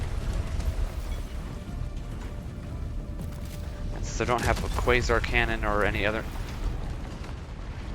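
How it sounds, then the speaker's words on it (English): Orbital bombardment in the video game Helldivers 2 rumbles as a continuous heavy low roar of distant explosions, with someone talking over it midway. "Oh, there's the orbital bombardment."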